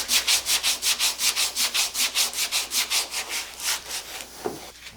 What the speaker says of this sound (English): get the sandpaper out and see if I can maybe rub those out with the sandpaper